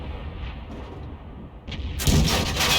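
Object 261 self-propelled artillery in World of Tanks fires its 18cm naval gun, a single loud broadband blast arriving late after a quieter stretch of low rumble, then sustaining a roaring tail.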